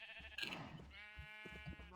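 A Minecraft sheep bleats in a wavering, nasal cry lasting about a second, heard at moderate level within quiet game audio.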